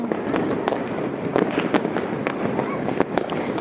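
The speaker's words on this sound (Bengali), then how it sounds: "চারিদিক শুধু এই যে আতশবাজি।" New Year's fireworks over Dhaka crackle and pop continuously from all around, with sharp bangs scattered through a dense, steady rumble of distant bursts.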